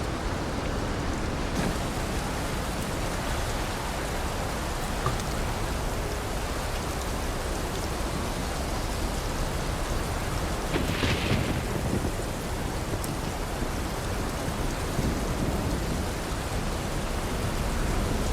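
Heavy rain pours down during a thunderstorm in a survival video game, a dense constant roar of rainfall with low rumbling thunder beneath it and no talking.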